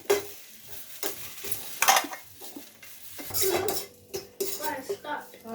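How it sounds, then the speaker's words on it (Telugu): Dried red chillies and curry leaves frying in a pan, a soft sizzle broken by repeated clanks and scrapes of a metal spoon against the pan, close and intermittent. "ఎర్రగా దోరగా వేయించి ఎండుమిరకాయలు వేస్తాను. మళ్ళీ ఎండుమిరకాయలు వేగిని కరివేపాకు వేసుకుందాం."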